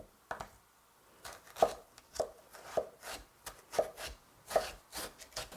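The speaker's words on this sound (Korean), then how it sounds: "썰을 때는 역시 같은 1cm로 가로 세로 똑같이 썰어 주세요." A knife chopping kohlrabi into 1 cm cubes for vegan kkakdugi on a cutting board, giving crisp close knocks in an uneven series of about a dozen strokes, with short quiet pauses between them.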